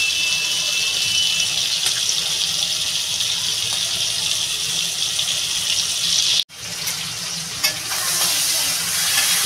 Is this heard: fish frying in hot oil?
yes